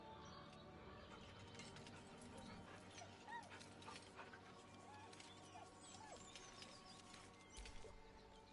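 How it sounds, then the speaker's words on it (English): A dog in Baldur's Gate 3 whimpers nervously with faint, thin whines over a low ambient game soundscape and soft rustling. "The dog whimpers nervously"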